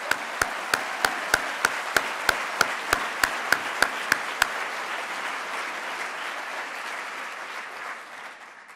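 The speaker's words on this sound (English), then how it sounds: "we should give them a big round of applause" Audience at a wellness summit applauds first responders, an irregular steady wash of many hands clapping that fades out gradually near the end, while one sharp close clapper taps a regular beat for the first few seconds.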